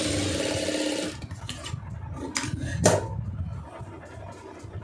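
A sewing machine runs steadily for about a second while joining the lining pieces of a blouse, then stops, leaving faint handling noises close by.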